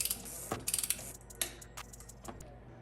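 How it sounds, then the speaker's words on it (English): Quiet mechanical clicks and short ratcheting bursts from a torque wrench tightening the oil drain cap on a 2011 Audi R8 V10, a few irregular metallic ticks close by. "then we'll grab the torque wrench and torque it down"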